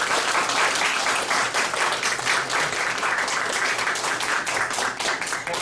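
Sustained audience applause at a Liberty Korea Party political rally on youth policy, dense steady clapping from a large crowd filling the whole stretch without talk.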